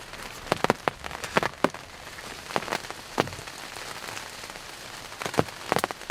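Steady rain patters on a surface, with scattered louder drips landing irregularly throughout.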